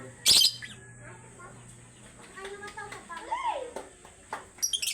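Pet African birds chirp and tweet in short scattered bursts, with a squawk or two, fairly close, while someone talks over them.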